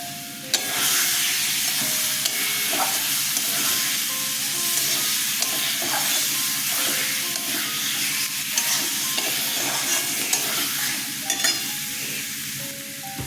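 Ground roasted spice paste of cumin, coriander and fennel frying and being stirred in a pan for a katla fish curry, a steady loud sizzle with scraping stirs throughout, no talking.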